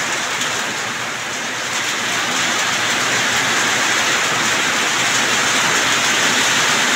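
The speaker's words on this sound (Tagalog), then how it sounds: "Lakas ng ulan idol, ulan." Heavy rain pours down steadily, a dense, loud broadband hiss of water hitting surfaces that grows slightly stronger and never lets up, with no voices over it.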